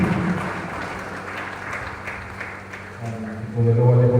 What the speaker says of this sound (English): Another round of applause for Hannah and his team,